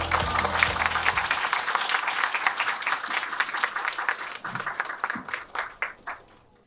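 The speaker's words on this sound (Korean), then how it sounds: "여러분 큰 박수 부탁드립니다." An audience at a science lecture concert gives a warm round of applause, dense clapping that thins into scattered, fading claps toward the end.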